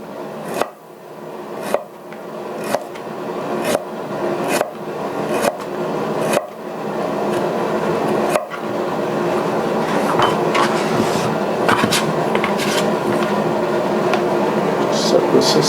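Knife slicing chicken into very fine slices on a board for stir-fried moo goo gai pan, a run of sharp, evenly paced cuts that soon blur into a steady busier chopping under kitchen noise, with speech nearby.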